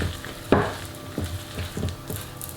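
A spoon or spatula stirs chocolate hazelnut cake batter in a bowl, a sharp scrape followed by a few softer rhythmic knocks and swishes, close and fairly quiet with no talk.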